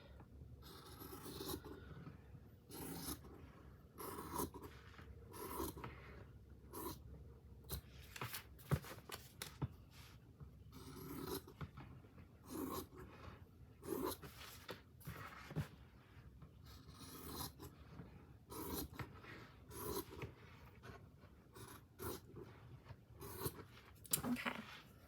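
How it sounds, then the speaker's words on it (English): Small scissors snip and rasp through paper while trimming pages for small handmade journals, a quiet series of irregular cuts and scrapes close up with no talking. "I'm just gonna cut probably about that much off"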